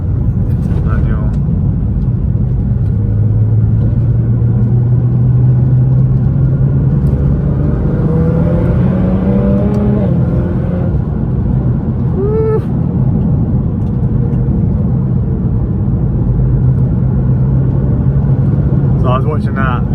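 A Nissan GT-R R35 drives under power, heard from inside the cabin in manual mode: a constant low engine drone with pitch sweeps rising as it revs through the gears, then settling into a steady hum.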